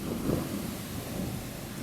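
Rain falls over a garden plot during a thunderstorm, with a low rolling thunder rumble swelling early and then easing under a steady wash of rain and wind.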